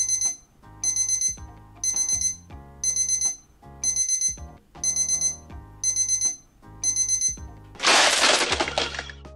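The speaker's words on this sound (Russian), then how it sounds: "Его сигнал все такой же бодрящий, как и у младшей модели Bresser Forecast." Bresser ClearView weather station alarm sounding loud, repeated electronic beeps in eight regular bursts about once per second, followed by a brief burst of harsh noise at the end.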